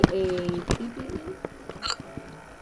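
Hiccups from a person, a few short abrupt bursts mixed with talking and background noise, near and moderately loud.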